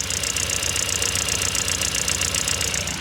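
Engine started for the first time in over four years, idling with a steady rapid ticking clatter from the top end, loud and close, with no voices over it.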